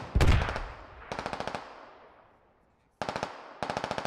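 Bursts of automatic gunfire crack out in the video game Squad: a loud close shot, then several rapid strings of evenly spaced rounds separated by echoing tails and a short silence.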